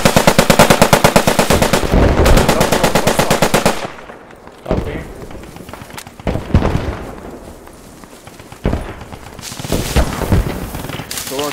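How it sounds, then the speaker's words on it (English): Bursts of sustained machine gun fire in the World War II shooter Post Scriptum, a rapid, loud, close hammering stream at first, then scattered shots and booms further off in the battle. "is that a friendly MG shooting at us?"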